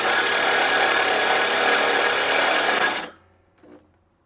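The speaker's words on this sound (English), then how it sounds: "these small drills just can't cut it for a proper grind" A small power drill grinds continuously while backlapping a lawn mower, a loud, steady whir lasting about three seconds before cutting off abruptly, followed by a faint brief knock.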